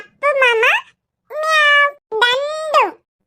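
A cat meows three times in drawn-out, rising-and-falling cries, loud and close, with pauses between each call.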